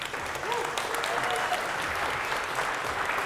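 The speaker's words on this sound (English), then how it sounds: "let's give that sponsor a round of applause" An audience at a business keynote event claps in steady, dense applause that fills the room throughout, with a voice faintly underneath.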